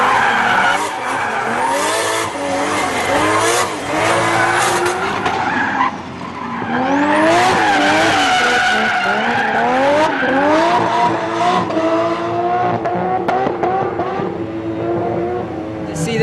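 Drift cars at a grassroots drifting event at SEMA skid through slides with loud, sustained tire squeals and revving engines, continuous and close, with rising and falling pitch sweeps and some crowd voices in the mix.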